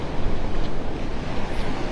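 Strong wind roars across Vanderbilt Beach in North Naples, with steady surf washing ashore beneath a continuous, loud, blustery wall of noise buffeting the microphone.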